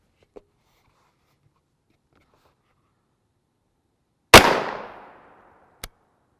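Single 9x19mm pistol shot firing a 94-grain frangible round outdoors, a sharp loud crack with a decaying tail, preceded by near silence and followed by a brief click.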